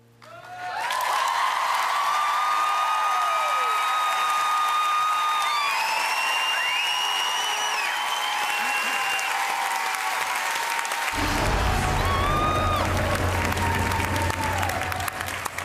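Sustained applause from a television talent show audience follows a sung ballad, loud and continuous throughout with scattered cheers and whistles, and a sung note fades into it at the start.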